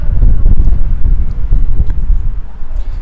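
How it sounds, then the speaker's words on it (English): Strong wind buffets the microphone on a street in Rye, East Sussex, a loud continuous low rumble with gusty surges and no break throughout. "it is very windy."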